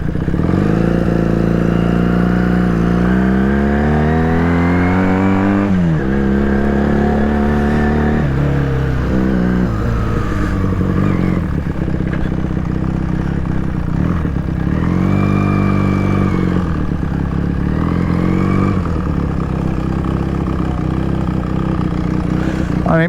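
A Honda CX500 with a bobber seat and rejetted carb roars while being ridden, its loud engine rising and falling through repeated revs and gear changes, close and continuous with no voices.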